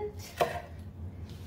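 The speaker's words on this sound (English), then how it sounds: "Then we are going to seed and chop up our peppers." Knife chopping seeded peppers on a cutting board, a single sharp chop standing out over a low steady background hum.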